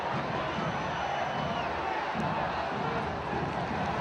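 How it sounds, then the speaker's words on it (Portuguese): Football stadium crowd at a 2008 Brazilian league match between Vasco and Ipatinga roars in a broad, distant, sustained wash of shouting, steady throughout with no clear breaks. "E a torcida pede um pênalti."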